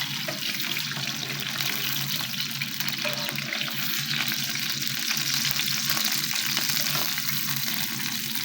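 Chicken fingers frying in hot oil give a continuous, even crackling hiss throughout, close and moderately loud with no talking.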